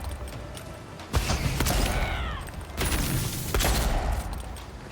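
Gunfire in the Avowed video game, with several loud cracking shots and bursts amid creaking, thudding combat noise and background effects, no speech.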